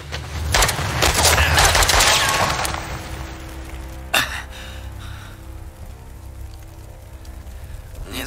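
Gunfire in Uncharted: The Lost Legacy, a loud burst of crackling shots in the first seconds followed by a single sharp report, then fading ambience, with talking in the background.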